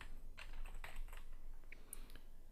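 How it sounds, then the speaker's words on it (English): Keys clatter on a computer keyboard in a short burst of quick typing, close and fairly quiet, with no voices. "I'm going to type in MotionWorks"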